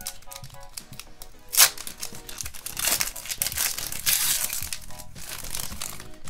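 A baseball card hobby pack wrapper, 2022 Pro Debut, is torn open with a sharp rip followed by continuous close crinkling and crackling of the foil as it is pulled apart.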